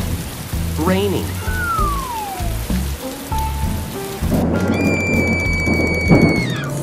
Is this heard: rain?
yes